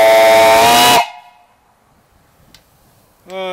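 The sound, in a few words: steam boiler whistle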